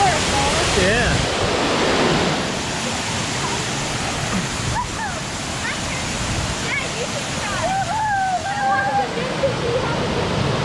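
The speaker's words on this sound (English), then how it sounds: "And that's why I call it waterfall." Opossum Falls pours in a steady, broad rushing roar of water that fills the whole scene, while a child and an adult talk over it.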